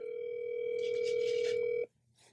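A WhatsApp call ringing tone sounds from a phone as a steady electronic tone held for nearly two seconds before cutting off. A faint voice murmurs over the end of it.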